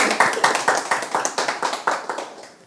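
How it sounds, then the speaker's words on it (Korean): Rhythmic clapping from a small church retreat group in Hawaii, steady even beats about four per second, fairly close and fading slightly toward the end. "우리 하나님께 박수하고 마쳤습니다."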